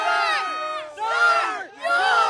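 A large crowd at a motor race roars and shouts loudly in three surging waves, each burst of overlapping voices swelling then briefly dipping.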